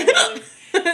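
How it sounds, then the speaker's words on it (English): A single sharp hiccup sounds close by, followed by a short, breathy laugh-like burst, with no words spoken. "See, I hiccuped."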